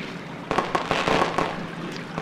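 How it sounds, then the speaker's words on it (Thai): Fireworks go off on Valentine's night as a series of sharp pops and crackling bursts, several in quick succession over a steady background hiss, moderately distant and fairly loud. "วาเลนไทน์เขาจุดพลุกันด้วยเหรอ"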